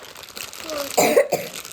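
A girl gives a short cough close to the microphone, a quick double burst, with quiet room noise before it.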